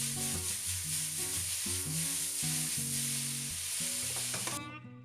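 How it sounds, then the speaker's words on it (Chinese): Kung pao chicken stir-fried hard in a wok, giving a loud continuous sizzle and hiss with rhythmic tossing and scraping throughout, close up and uninterrupted, then cut off abruptly near the end. "然后就可以爆炒、翻炒、颠锅一顿操作"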